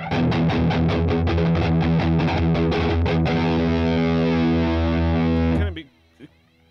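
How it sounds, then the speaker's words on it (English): An electric guitar plays through the flanger effect of a Boss Katana MK-II amp with distortion, loud strummed chords ringing into a long sustained chord that cuts off abruptly. "A flanger. Flangers can be funny."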